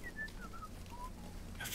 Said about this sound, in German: Wer pfeift denn hier?